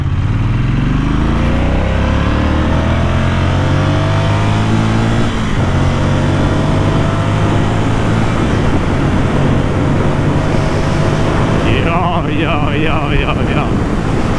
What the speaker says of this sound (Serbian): kako uživanje voziti pravi motor posle toliko vremena